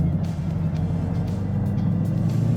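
A stock-turned-670-horsepower Ford Mustang track car pulls hard in second gear, its engine a loud, steady, deep drone that holds continuously throughout.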